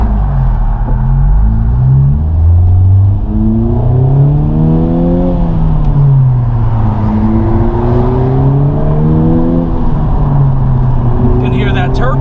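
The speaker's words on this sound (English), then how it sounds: "You can hear that turbo." A 2021 Honda Civic Type R FK8 with a muffler delete and turbo, its loud, raspy exhaust rising and falling through gear changes as it pulls away, with a short turbo whoosh near the end.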